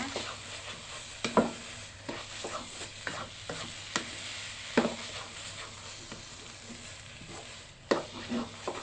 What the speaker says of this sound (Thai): ผัดให้เข้ากันดีค่ะ ผัดจนแห้งดีนะคะ